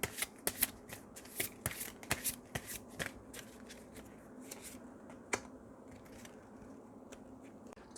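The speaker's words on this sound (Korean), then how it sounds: "꽃 카드도 하나 뽑아볼게요" Tarot cards are shuffled close up before a flower card is drawn, giving a run of crisp flicks and riffles that thin out into sparse taps.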